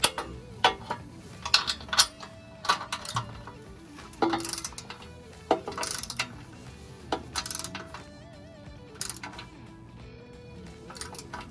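A torque wrench tightening the mounting bolts on a front steel off-road trail bumper, with scattered metallic clicks and clinks of tools and hardware spread across the stretch, moderately close and without talk.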